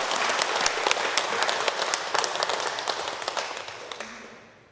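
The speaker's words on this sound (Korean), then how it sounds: "다시 한번 감사의 박수 드리시기 바랍니다" A church congregation at a Sunday service claps in thanks, many hands producing a dense crackling burst with individual claps standing out, tapering off to quiet at the end.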